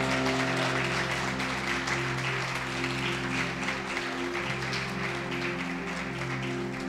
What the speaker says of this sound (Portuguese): Aplauda Jesus, querido.